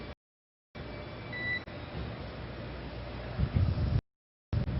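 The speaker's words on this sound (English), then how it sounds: "You'll be hearing those very characteristic beeps." A short high electronic beep sounds over a steady hiss of radio static from a SpaceX Dragon spacecraft radio link, broken by abrupt dropouts to silence.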